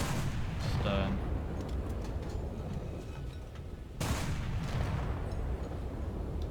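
Naval gun on a ship firing a default HE shell in War Thunder, heard as a sharp loud boom early and another heavy blast about four seconds later over sustained roaring battle noise.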